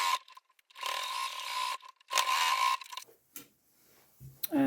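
A sewing machine stitches a pocket onto a bag lining in short whirring bursts with brief stops between, close and fairly quiet.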